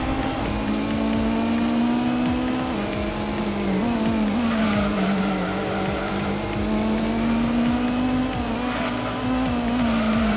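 A racing car's engine drones loud and close in Gran Turismo, its pitch rising and dipping through gear shifts while tires squeal and skid, with no talking.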